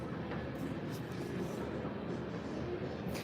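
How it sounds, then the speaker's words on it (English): A big CSX freight train rolls by in the background, a low, continuous rumble with faint rail noise, fairly quiet and steady throughout with no clear voices. "There's a fucking train going by."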